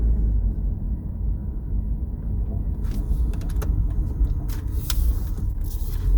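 Road noise and engine rumble inside a taxi being driven on hot-weather roads fill the cabin evenly, with a few sharp clicks and rattles partway through.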